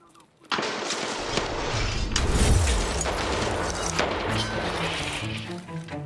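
A scav opening fire in Escape from Tarkov: a sudden loud burst of gunfire that rolls into sustained, echoing shots and reverberation, heavy and close.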